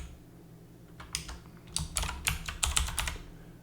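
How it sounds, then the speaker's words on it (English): Computer keyboard typing a name into CAD software, a quick run of close, crisp keystrokes that picks up speed toward the end, with no voices. "And then I'm just gonna type in my name."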